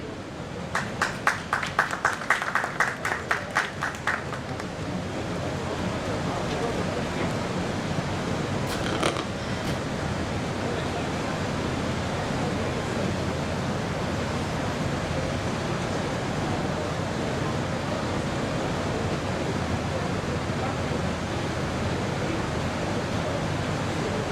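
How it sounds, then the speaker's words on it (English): Conference audience at a tea and coffee expo applauds as a speaker is welcomed onto the stage, a burst of clapping that settles into a steady, dense wash of applause filling the hall. "let's have a wonderful round of applause and welcome him"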